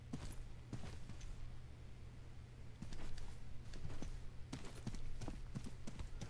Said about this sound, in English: I heard footsteps, so I think there's another one outside.